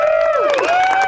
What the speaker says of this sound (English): Give yourself all a big round of applause.